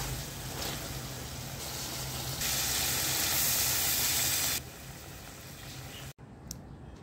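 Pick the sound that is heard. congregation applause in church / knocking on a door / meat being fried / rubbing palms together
meat being fried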